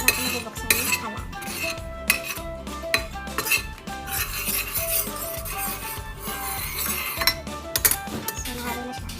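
Utensil stirring a kimchi mixture in a cooking pot on an unlit stove, steady scraping and clinking against the pot in a quick, uneven rhythm, close and clear with no talking.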